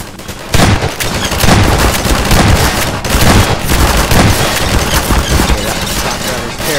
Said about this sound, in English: Okay, that shotgun is terrible.